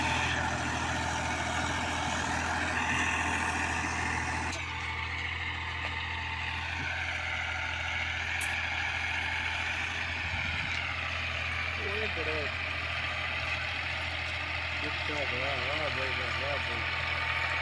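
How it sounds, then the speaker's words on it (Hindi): A tractor engine idles with a steady low rumble that holds throughout at a moderate level. Faint voices and some background noise sit over the engine. "ये ट्रैक्टर है।"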